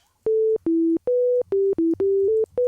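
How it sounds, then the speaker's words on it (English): A pure, plain single-operator sine tone from the DEXED FM synth's default preset plays a short melody of separate notes at different pitches, each one clean and steady with gaps between notes. "it's the default, it's just a sine wave, one operator here"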